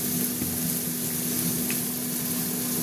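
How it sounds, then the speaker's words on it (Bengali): Ginger-garlic paste with turmeric, coriander, chilli and cumin powders fries in a pan for a potol and masoor dal dish, making a steady, dense sizzle with a faint hum underneath, close and continuous. "এবার এই মশলাটাকে একটু কষবো"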